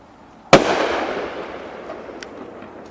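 A single sharp, loud firework pop goes off in a backyard on New Year's Eve, with a long echoing rumble that slowly fades, followed by a couple of faint distant cracks.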